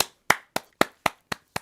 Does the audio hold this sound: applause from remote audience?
yes